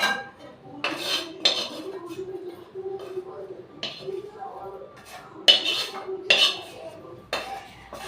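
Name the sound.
utensils and pan clinking while removing fried neem eggplant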